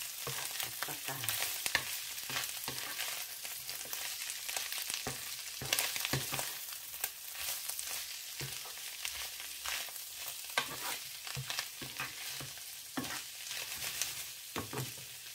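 Pickled mustard greens and three eggs stir-fry in a hot pan, a continuous sizzle and crackle broken by repeated scraping and clanking of a utensil stirring, close and steady with no talking.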